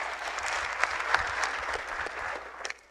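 An audience at a religious gathering claps in a steady burst of applause, fairly close and full, then the clapping stops abruptly at the end.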